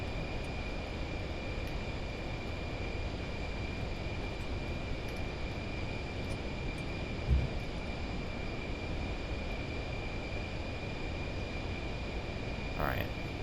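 Small plane engine in a flight video game, a steady droning hum holding constant throughout with a faint high whine above it and a brief thump midway.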